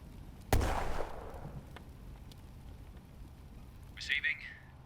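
A mortar fires in a war video game, one sharp, loud boom that fades into a decaying rumble, followed later by a brief higher-pitched crackle or whine against a quiet ambient backdrop.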